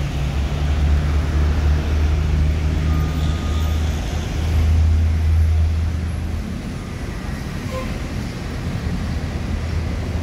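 Intercity bus pulling out of the Palembang terminal bound for Java, a loud, steady low engine rumble with traffic and road noise around it, continuous throughout with a brief swell in the middle.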